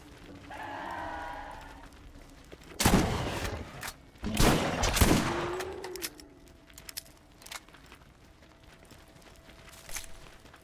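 Gunfire in the multiplayer game Borderlands 1: a few loud, close bursts of shots crowd together in the middle, then fade to scattered faint sounds.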